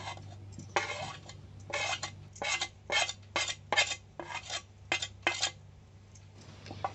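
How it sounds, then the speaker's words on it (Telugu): A spoon clinks and scrapes against a bowl while chicken is mixed with turmeric, in a run of quick, close stirring strokes over a steady low hum, with no talk. "పసుపు వేసుకున్న తర్వాత బాగా కలుపుకోండి."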